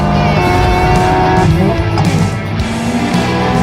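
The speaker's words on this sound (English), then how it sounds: "N Drift Optimizer makes drifting easier, more accurate, more fun." A Hyundai N performance car drifts with loud engine roar and squealing tires, the pitch rising and falling as it slides, close and intense throughout.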